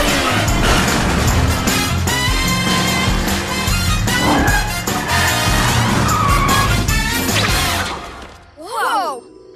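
A cartoon car races off with tyres skidding and squealing over loud music and effects, then a burst of whooshing at the end.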